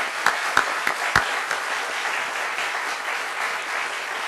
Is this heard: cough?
no